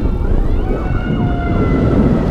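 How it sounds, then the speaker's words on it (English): A passing ambulance siren near a hospital wails continuously at moderate distance, its pitch sweeping up and down over steady traffic rumble. "occasionally there's like an ambulance passing by"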